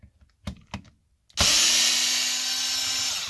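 A few small clicks and taps come first, then a power driver whirs steadily up close as it backs screws out of a Traxxas Maxx center diff.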